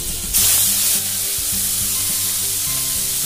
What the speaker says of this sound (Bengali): তেলটা গরম হয়ে গিয়েছে, পনিরগুলো দিয়ে দিচ্ছি।